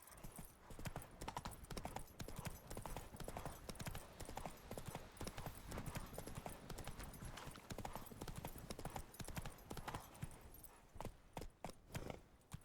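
Hooves of a galloping horse pound in quick, continuous clip-clop rhythm in The Witcher 3 video game, loud and close, with occasional game sounds and a brief voice layered over it.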